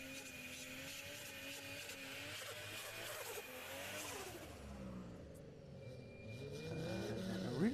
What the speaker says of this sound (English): That was a big burnout from Jay Wilding.